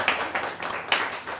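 A few people clap on a live talk show, a handful of quick, separate claps in a short burst at moderate loudness.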